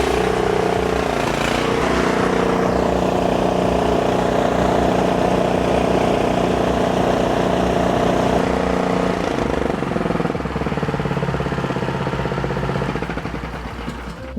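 Ariens snowblower engine pull-started with the choke on, the throttle up and the fuel primed, catching and then running loud and steady nearby with a droning buzz that shifts slightly near the end.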